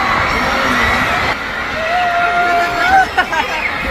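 A crowd screaming and cheering at a performance at the 9th Wish Music Awards, a dense wash of shrill voices held steady throughout.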